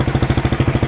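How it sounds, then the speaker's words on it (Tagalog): A second-hand motorcycle engine runs close to the microphone, a loud, rapid, even thumping idle with regular pulses. "Tapos pakinggan nyo yung tunog ng makina."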